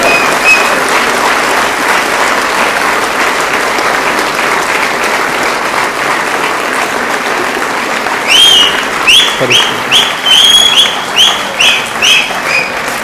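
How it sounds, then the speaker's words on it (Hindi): Audience applause at a network marketing seminar in India, a dense, steady clapping that runs for the whole stretch, with birds chirping toward the end. "जोरदार तालियों के साथ फिर एक बारी अजय शर्मा जी, जोरदार तालियों के साथ सर।"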